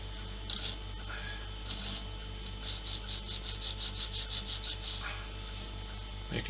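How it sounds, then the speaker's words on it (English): A piece of a Trumpeter Titanic plastic model kit being sanded by hand: close, soft rhythmic rubbing strokes in short bursts over a steady low hum, with faint bumps of handling between passes. "Give that a sanding."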